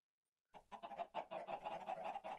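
Several chickens cluck in a steady, busy stream in Minecraft after a brief silence, fairly close and moderately loud.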